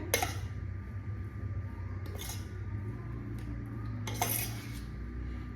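A spoon stirs sabudana khichdi in a pan, with three distinct metallic clinks against the pan spaced about two seconds apart over a soft, steady scraping and low background hum.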